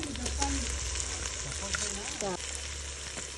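Fresh fish pieces go into a pan of spiced curry on a stove, giving a close, steady sizzle and bubbling with scattered clinks, a low rumbling hum underneath, and faint background voices.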